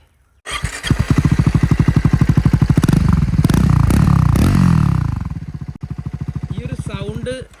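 A Triumph Scrambler 400 with a double-barrel exhaust starts and idles with a rapid pulsing thump, revs up into a louder sustained roar, then drops back to a throbbing idle, heard close up.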